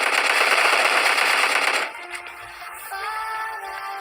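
Rapid automatic gunfire in a battle royale shooter game, a dense loud burst for nearly two seconds, then quieter scattered in-game effects and tones.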